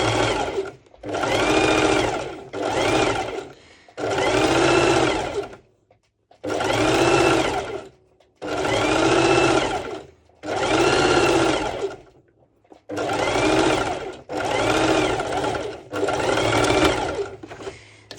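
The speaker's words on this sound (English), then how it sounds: "to use my serger because it's so much faster" A serger runs in a series of fast, loud bursts with short pauses between them, stitching a zigzag seam on high-waisted ruched bikini bottoms. No voices are heard.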